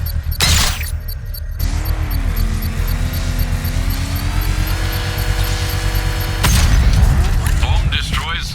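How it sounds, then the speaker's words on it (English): Controlled bomb detonation in Batman: Arkham Knight, triggered with the power winch: a sharp blast at the start, then a long rumbling, whining mechanical drone that ends in a second heavy boom. "I can use the power winch to trigger a controlled explosion"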